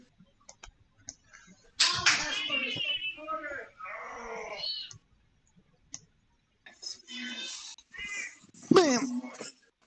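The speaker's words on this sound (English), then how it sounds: "Decimal, go find the other kitty" A cat meows loudly and close up in two long drawn-out bouts with wavering pitch. Brief quiet gaps and faint clicks fall between them.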